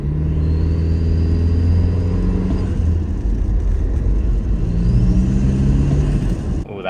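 Toyota Land Cruiser 250 engine fitted with an SXTH Element intake revving up and settling in the low RPM range, a deep rumbling drone with a rising whine, heard from inside the vehicle.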